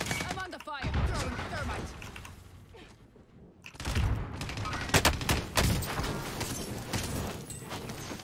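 Bursts of gunfire in Call of Duty: Warzone come in sharp volleys, mixed with game effects and other sounds, while players talk over the action.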